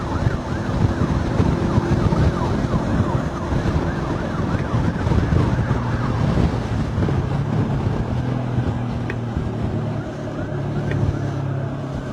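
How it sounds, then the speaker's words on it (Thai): A Chulalongkorn Hospital ambulance siren wails continuously in a police-escorted convoy carrying a donor heart through city traffic, rising and falling against rumbling road noise and engines, loud and close throughout. "เป็นรถพยาบาลโรงพยาบาลจุฬานะคะ"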